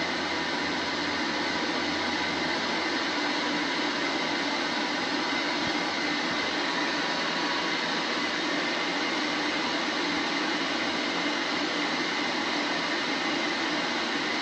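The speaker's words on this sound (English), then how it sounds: "you're going to have to move your dryer up as well" A high-velocity dog grooming dryer blows steadily while an Afghan Hound's coat is brushed, a loud, unbroken broadband roar that holds evenly for the whole stretch with no talking.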